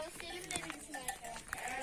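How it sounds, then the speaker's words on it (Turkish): Ewes and small lambs bleat in a village pasture, several short overlapping cries heard close by over a noisy outdoor background in a brief moment. "Anne koyun ve küçük yavru koyunlar da var."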